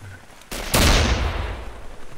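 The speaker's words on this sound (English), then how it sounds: "I'm trying to kill him from the gun, but I missed." Gunfire in the multiplayer combat game Mare Nostrum: a sharp crack followed by a loud, sustained burst of shots that rolls and fades over a couple of seconds, with no talk.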